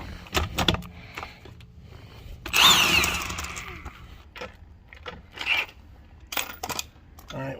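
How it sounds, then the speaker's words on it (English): A Milwaukee 18-volt impact wrench with a 17mm socket backs lug nuts off a Maserati wheel, giving one loud, rattling burst of about a second between quieter clicks and handling noises. "I'm going to be using a Milwaukee 18-volt impact from Home Depot with a 17mm socket"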